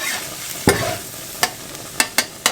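Food sizzling steadily in oil in a pan, broken by several sharp scraping knocks as it is stirred and mixed, close up.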